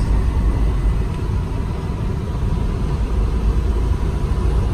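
A 2015 International ProStar truck with a 500-horsepower Cummins ISX engine and emissions delete runs with a loud, steady, deep rumble that holds evenly throughout, close by and with no talking.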